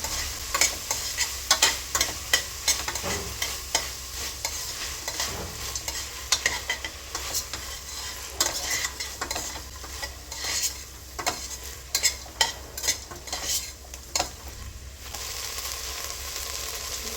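Ingredients stir and fry in a pan for a tomato bath, with steady sizzling under repeated scraping and clinking of a spoon against the pan, close and without talk.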